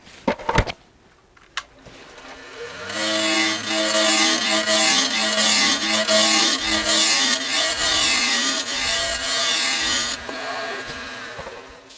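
Wood spinning on a lathe hisses and scrapes steadily under a turning tool as a hollow form is rounded, loud and continuous for several seconds after a few knocks at the start, then cutting off near the end.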